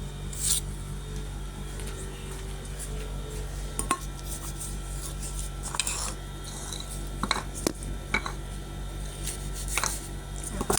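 A knife cuts cinnamon bread dough around a plate, making scattered light clicks, taps and soft scrapes on the board and dish, close by and fairly quiet with no talk.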